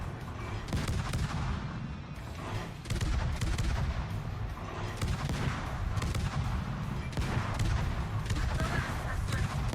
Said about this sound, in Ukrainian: Ага, стріляє.